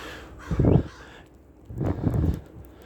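Crows caw outdoors in two separate bursts, the first hoarse and brief, the second a longer run of calls, moderately loud against faint wind.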